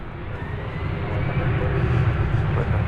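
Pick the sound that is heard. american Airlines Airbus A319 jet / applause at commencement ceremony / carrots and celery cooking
american Airlines Airbus A319 jet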